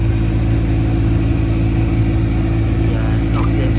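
A noisy car blower fan running inside the cabin, a loud, steady low droning rumble with a constant tone, continuous throughout with no break.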